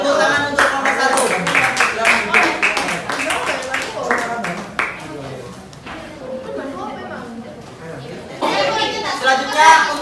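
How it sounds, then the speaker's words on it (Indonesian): Classroom applause for a student group that has just presented, during a lesson at a Surabaya senior high school. Dense clapping rises from several hands, with voices chattering over it, then tapers off before a brief burst returns near the end. "Beri tepuk tangan untuk kelompok"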